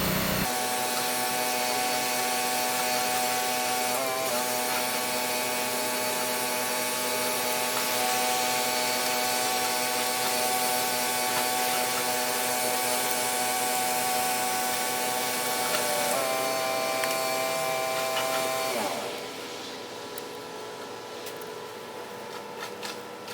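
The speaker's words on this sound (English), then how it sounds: "Someone here at my shop is trying to run a pressure washer." Steady mechanical whine with a constant droning hum from a pressure washer, running unbroken at a distance in a bicycle shop before suddenly dropping off near the end.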